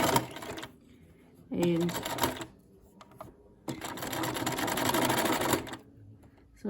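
A sewing machine zigzag-stitches over bundled cord threads to make machine-wrapped cord, running in two bursts of rapid, steady whirring separated by a pause. There is brief talk at the start.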